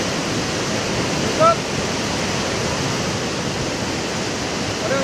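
Floodwater rushes and roars after a cloudburst at Sahastradhara, Dehradun, carrying debris downstream; a loud, steady broadband torrent fills the whole stretch, with one brief faint squeak partway through.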